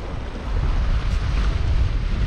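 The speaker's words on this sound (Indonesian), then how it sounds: "Ini kerasa lebih gede nih di sini ombaknya dan anginnya kenceng di sini." Ocean waves and strong wind at Pantai Larangan Indah beach in Tegal, a loud, continuous roar of surf and gusting wind buffeting the microphone, with no voices.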